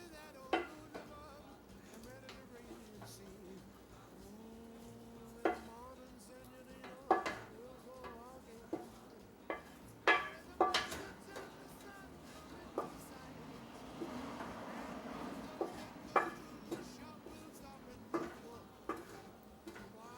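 Drained ground meat being stirred into homemade lasagna sauce in a pot, with repeated spoon taps and scrapes against the metal, wet churning and intermittent voices over the stirring.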